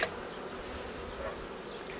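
Honey bees hum steadily around an open Ukrainian-Alpine hive during a spring nest expansion, a continuous close swarm buzz with no talk.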